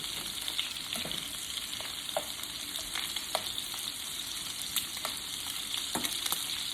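Shrimp frying in a pan, a steady close sizzle with scattered crackles and pops, occasionally stirred or turned, continuous throughout.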